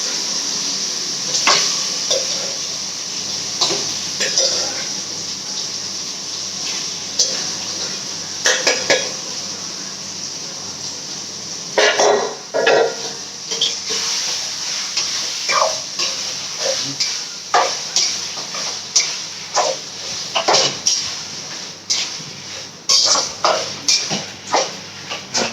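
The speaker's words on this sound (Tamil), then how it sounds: "இப்போ நம்ம கறி போட்டுக்கலாம்." Chicken meat dropped into a hot pan of masala for a coriander chicken gravy, with steady sizzling throughout and frequent clinks and scrapes of a utensil against the pan, close and fairly loud.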